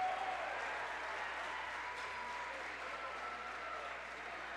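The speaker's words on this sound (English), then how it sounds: "you hear claps in the Hiland student section here as they can" Scattered clapping rises from the Hiland student section at a girls district championship basketball game against Strasburg, a steady, moderately loud crowd texture with a low constant hum underneath throughout.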